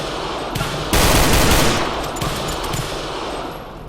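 Sustained rapid gunfire in the video game Project Crypt, loud and continuous with a sharp surge early on, then tapering slightly, without talk.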